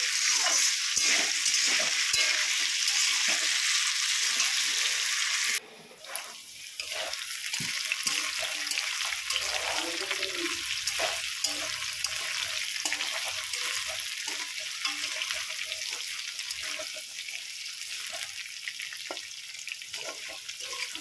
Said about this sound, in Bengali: আলুগুলো খুব সুন্দর করে নেড়ে চেড়ে ভেজে নিয়েছি দেখুন বন্ধুরা